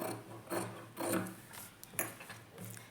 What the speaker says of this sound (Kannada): ಉಳ್ಕೊಂಡಿರೋ ಬಟ್ಟೆನೆಲ್ಲ ಕಟಿಂಗ್ ಮಾಡಿ ತೆಗಿಬೇಕು